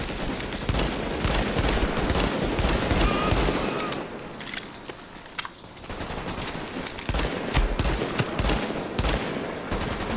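Rapid automatic gunfire in the Dark Zone video game, with dense overlapping bursts of shots loud and close, briefly easing midway before the heavy firing resumes.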